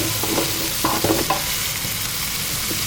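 Sliced onions fry in hot oil in a pan with cloves for paneer salna, a loud continuous sizzle broken by a few clinks and scrapes of stirring early on.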